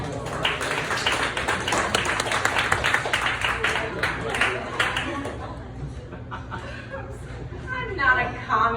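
Comedy club audience applauding a comedian, a dense burst of clapping with chuckles and chatter that thins and fades after a few seconds as talk resumes.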